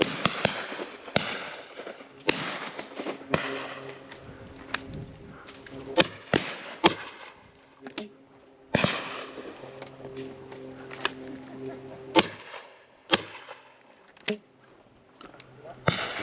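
Shotgun firing 24-gram cartridges at clay targets on a sporting ground, a series of sharp, fairly close reports at irregular intervals, with people talking between shots.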